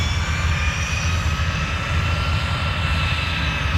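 An A-10 Junior aircraft at the Oshkosh airshow droning with a steady, loud engine roar and a faint high whine, continuous throughout with no voices.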